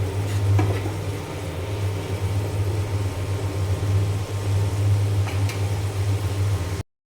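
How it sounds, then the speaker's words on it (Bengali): Potatoes frying with onion and spices in a pan, a steady sizzle and crackle with soft stirring, close and even in level for several seconds before stopping abruptly. "তো এইখানে আলু দিয়ে দিলাম, আলু আমি খুব সুন্দর করে কষিয়ে নেব"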